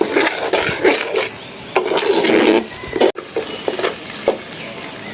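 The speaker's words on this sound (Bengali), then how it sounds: "চালটা ভালো করে ভেজে তাহলে সুদের ভাতটা ঝরঝরা হবে" Rice frying in a pan while it is stirred and scraped, giving a continuous rough, rasping rub with irregular bursts.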